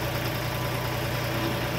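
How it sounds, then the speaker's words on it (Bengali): A river launch boat's engine drones steadily while crossing the Karnaphuli River, a constant close mechanical hum with a low throbbing rhythm and no voices. "লঞ্চে করে পার হয়ে যাচ্ছি।"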